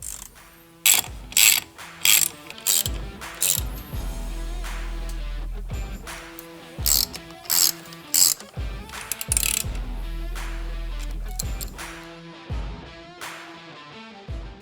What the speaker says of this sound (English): we're going to use the correct tools to tighten down all the bolts